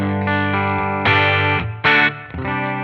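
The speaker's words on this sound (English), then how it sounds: "let's listen to it with some P90 pickups" Electric guitar with P90 pickups on a Gibson 56 Custom Shop, played through a 1965 Deluxe Reverb amp capture at lower gain: sustained chords ringing with slight breakup, a couple of fresh strums cutting in, close and full.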